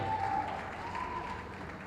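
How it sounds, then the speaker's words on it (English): Audience applause at an evening street theatre show, a steady wash of clapping from a crowd at moderate distance, fading slightly over two seconds. "A round of applause, I think."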